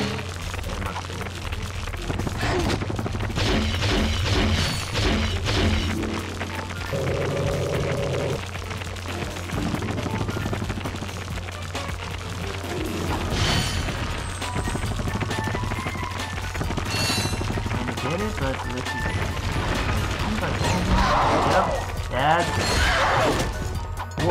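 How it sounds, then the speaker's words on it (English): A creature blows up in Ratchet & Clank, heard as bursts and crashes within a dense game mix of effects and music, with a voice talking over it throughout. "Not only did it explode itself, but it exploded the other, you know, the other creature."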